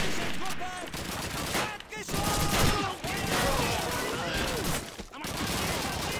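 Dense, sustained gunfire from a Call of Duty 2 D-Day mission, with overlapping bursts and rapid automatic fire that run almost without a break and dip only briefly, while voices shout over the battle.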